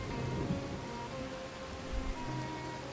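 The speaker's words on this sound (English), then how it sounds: "it's raining in the game. Can you guys hear the rain?" Steady video game rain in Thronebreaker: The Witcher Tales, pattering and hissing evenly throughout, with a faint low rumble underneath and no voices.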